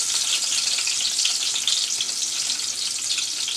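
Small chopped onion frying in a pan for a lentil and Malabar spinach curry with dried shrimp, giving a loud, continuous, bright sizzle that stays steady and close throughout, with no voices.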